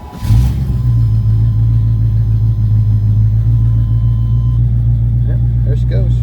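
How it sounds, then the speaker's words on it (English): A 1984 GMC truck with a Chevy 305 engine cranks briefly and catches, then settles into a loud, steady low rumble at idle, close by. "I'll do a little start on it. It cranks up."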